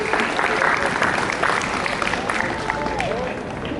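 Audience applauding at a school central-day ceremony, steady dense clapping with crowd noise filling the whole stretch, fairly loud and continuous without a break.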